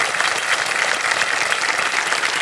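Studio audience applause on the KBC quiz show set, a dense, steady wash of many hands clapping at full volume throughout, with no voices over it.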